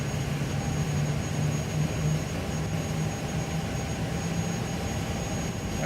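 An Airbus A300 jet engine in Microsoft Flight Simulator 2020 runs with a steady, loud broadband roar, a low hum and a thin high whine held throughout, with no voices.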